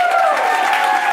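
An improv theater audience gives a short burst of applause, a brief, even patter of clapping with a voice heard over it.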